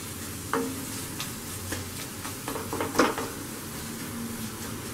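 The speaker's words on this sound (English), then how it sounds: "Give it a mix again." A spoon stirs egg curry with a little mashed egg and a splash of vinegar in a pan, giving soft scraping taps over a steady low sizzle.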